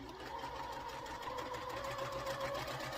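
Sewing machine stitching a quilt block, a faint, steady mechanical whir running evenly through the whole stretch with no voices.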